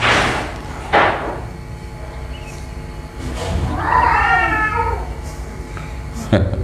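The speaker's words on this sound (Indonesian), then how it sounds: "Kucing" A cat meows once, a short wavering cry heard amid a man's ongoing speech, with a couple of sharp knocks before and after.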